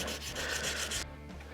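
3000 grit sandpaper wet-sands the finish on a 3D-printed and wood hybrid guitar, making rapid rhythmic back-and-forth rubbing strokes up close that stop abruptly near the end.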